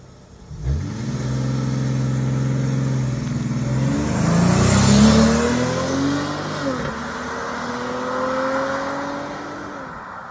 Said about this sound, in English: I'm gonna go ahead and show you guys launch control in it